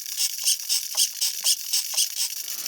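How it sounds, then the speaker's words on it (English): The reverse servo of a Traxxas Revo 3.3 RC truck buzzes and ratchets close by in a steady, rapid pulsing rhythm of mechanical clicks, about two pulses per second, with no voices. "Don't mind that noise, that's just the reverse servo."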